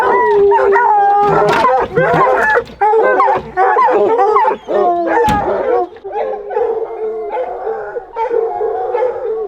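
Hunting dogs in the wilderness bark, howl and whimper in a frantic, overlapping chorus close by, continuing almost without pause, with people talking faintly underneath.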